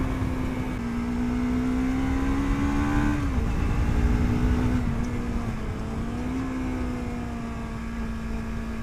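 A Lexmoto LXR380 motorcycle ridden on dry roads, its engine droning steadily and close with a loud, even hum that dips and rises slightly as the throttle shifts, accompanied by constant wind and road rumble.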